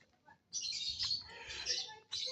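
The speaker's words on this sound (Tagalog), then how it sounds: "Maingay ang mga ibon," Birds chirp noisily and close by on an early-morning walk, with bright, busy tweets that come in bursts with short pauses between them.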